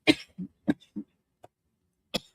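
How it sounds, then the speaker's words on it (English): A short burst of dry coughs and throat clearing from a man, several sharp hacks in quick succession, then a pause and one more cough, close and otherwise quiet. "I do have a little bit of a cough"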